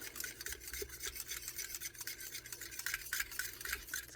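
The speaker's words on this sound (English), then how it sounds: "just a plain whisk for this. We're going to mix it until it's nice and glossy" A plain whisk beats a thickening night cream mixture in a bowl, giving a steady close scraping, rasping swish with fast repeated strokes and no talk.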